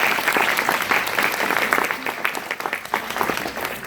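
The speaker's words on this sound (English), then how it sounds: "Let's give another big round of applause for all of our candidates." Dense applause from a pageant audience, a steady patter of many hands clapping close by for the competing candidates, lasting the whole few seconds without pause.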